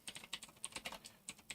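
Rapid computer keyboard typing, an irregular run of crisp key clicks with short pauses, recorded close and fairly quiet with no voices.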